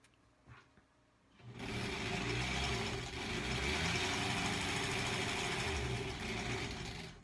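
A sewing machine stitches a quilt block leader: after a brief quiet rustle, a steady, fast mechanical whir starts and runs evenly for several seconds, close and moderately quiet.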